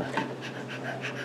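A puppy panting in quick, even, rhythmic breaths, close and fairly loud, with no other sounds.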